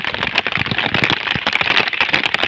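Heavy monsoon-style rain pours down hard and loud, a dense steady hiss broken by sharp splashing crackles of drops hitting nearby surfaces, with no voices.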